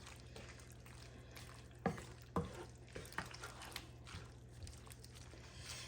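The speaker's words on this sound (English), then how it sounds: "Let's let this butter cook down a little bit" Butter cooking down in a pan gives a quiet, steady sizzle with soft stirring scrapes and a few light clinks, no talk over it.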